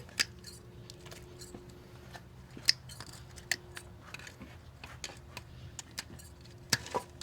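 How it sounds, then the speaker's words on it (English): Scissors trimming the roots of a potted jasmine plant: repeated crisp snips at an uneven pace, close and fairly quiet, over low background hiss. "I'm going to trim up these roots so the pot will lay flat where I want to move it."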